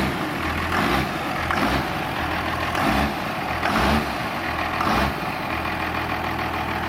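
A 2002 Subaru Legacy engine runs loud and close, rising in repeated pulses about once a second over a continuous low drone, with no talk over it.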